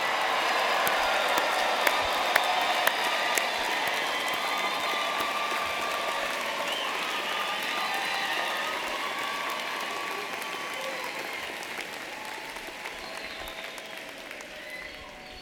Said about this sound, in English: one final big, loud round of applause